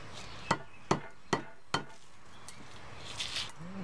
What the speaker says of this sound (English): I'm just still pounding on the pitch